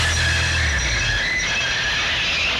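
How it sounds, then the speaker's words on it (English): A train's emergency brakes squeal steadily and loudly, a sustained metallic screech over low rumbling that fades in the first second. "Jackie's driver slammed the emergency brakes on"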